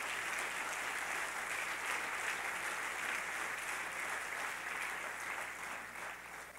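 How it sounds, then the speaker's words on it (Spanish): A church congregation claps steadily in praise during a Spanish-language Christian service, a continuous wash of many hands heard at a distance and fairly faint, with no talking over it. "Dele fuerte ese aplauso al Señor"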